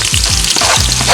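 Onions sautéing in pork fat, a loud close crackling sizzle with a few scraping stirs, short and without speech.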